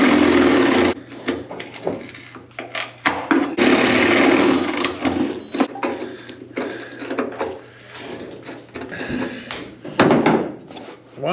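A loud power drill whines and grinds in stop-start bursts, drilling out spot welds on a Squarebody Blazer's metal body, with clanks and knocks between runs.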